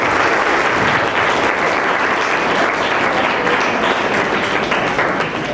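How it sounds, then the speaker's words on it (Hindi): Audience applause at a World Ozone Day seminar in Anand, Gujarat: dense, sustained clapping from a roomful of people, loud and steady for over five seconds before easing slightly at the end. "चलो तालियां बजा दो इसके लिए"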